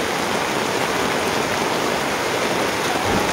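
Floodwater inside a house during a damaging flood, heard as a steady, loud rushing wash of water that keeps going without a break and covers everything else.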